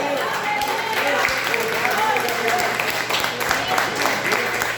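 A church congregation applauding during a Sunday service, steady continuous clapping with crowd noise and a low hum throughout.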